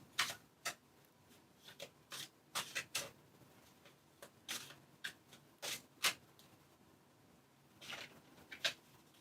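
Quiet, close shuffling of tarot cards: a string of soft, papery riffles and slaps in an irregular rhythm, with no talking.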